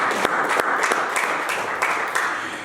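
A church congregation applauding to acclaim Jesus, with loud, dense clapping and a few sharper claps standing out, fading slightly toward the end.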